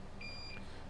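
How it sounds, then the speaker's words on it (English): A short, high electronic beep sounds once during repair work on a coffee-damaged MacBook A1990 logic board, standing alone over faint background hiss. "Beep."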